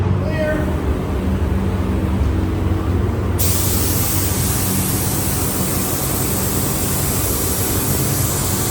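Spray gun laying down clear coat on a 1986 Ford F150 bullnose truck under restoration, a steady loud broadband hiss running throughout, jumping brighter partway through as the spray intensifies.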